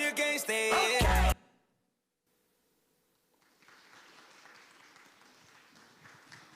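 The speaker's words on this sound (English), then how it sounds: "Let's give them another big round of applause." Audience applause at a youth forum on the climate and environmental crisis. A short burst of loud music cuts off into near silence, then steady, moderate clapping rises and holds to the end.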